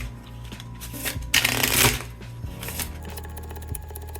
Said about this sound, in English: shuffle the deck and deal 15 cards to each player